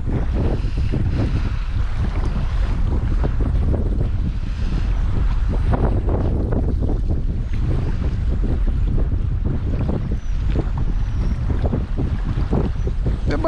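Strong wind buffets a fishing boat at sea in snowy weather, a loud continuous roar of gusts and microphone wind noise with water movement, steady for the whole stretch with no talk.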